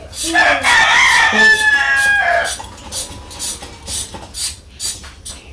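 A rooster crows loudly nearby in a village, a long wavering call, followed by a run of soft, evenly spaced clucks.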